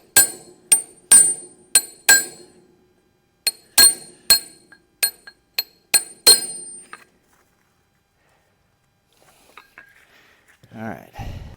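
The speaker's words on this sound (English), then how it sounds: "Went and got a screwdriver to tap on these lock washers." A screwdriver taps on steel lock washers: about a dozen sharp, ringing metallic clinks in an uneven rhythm, close and fairly loud, then quiet with a few faint handling sounds at the end.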